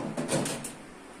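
A glass panel is pressed into an electric oven door, giving a couple of soft, dull knocks and scrapes close by, with no talking.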